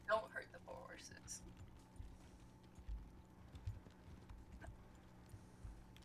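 Horse hooves clip-clop in Red Dead Online, a quiet uneven series of soft thuds under low background hum, with brief chatter near the start.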